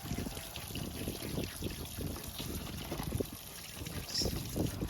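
Hot water trickles and dribbles over ice in a steady, gentle, close stream, with faint bubbling and splashing throughout and no voices.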